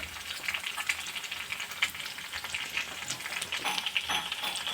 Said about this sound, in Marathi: कांदा बघा छान असा परतला आहे